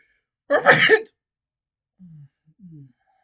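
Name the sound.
sneeze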